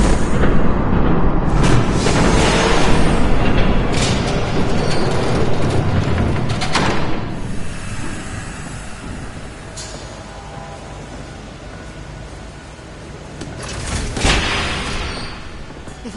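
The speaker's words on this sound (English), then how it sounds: "There's a train coming." In a Batman Telltale video game, a train rumbles past with heavy, booming clatter that is loud at first, fades to a lower rumble, then swells briefly again near the end.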